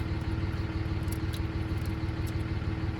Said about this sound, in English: It's a truck running, charging up the battery.